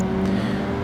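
Lancia Evolution 7 rally car in the racing game Project Gotham Racing 2 at Kohama at night, a steady engine drone holding a constant pitch, loud and close with no speech.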